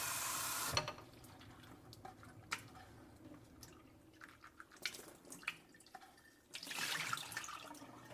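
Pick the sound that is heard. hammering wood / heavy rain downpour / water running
water running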